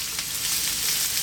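Chopped garlic and sliced onion fry in hot oil over fairly lively heat, giving a steady close hiss and crackle with no talking.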